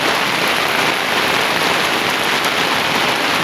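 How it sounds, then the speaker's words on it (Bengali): Loud, unbroken downpour, a thick roaring hiss of heavy rain filling the space with no other sounds. "খুব জোরে বৃষ্টি হচ্ছে"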